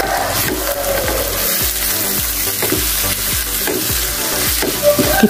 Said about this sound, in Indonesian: Kita aduk-aduk sampai bumbu ini agak mengental ya